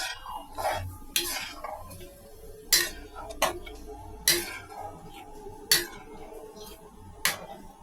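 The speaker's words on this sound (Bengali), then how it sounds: "ভালো করে মিশিয়ে দিচ্ছি চিনি সুজির সঙ্গে" A utensil stirs sugar into semolina and water in a pot, clinking against the metal in repeated sharp taps roughly every second, close by over a quiet background.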